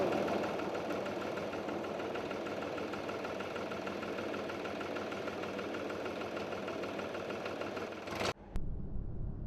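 A tractor engine idles with a steady mechanical knocking chug, heard close and moderately loud until it abruptly drops away near the end.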